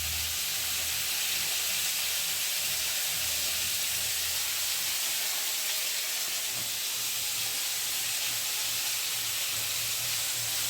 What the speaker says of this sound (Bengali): আলুটাকে এখন ভাজি নিয়ে অল্প লাল লাল করে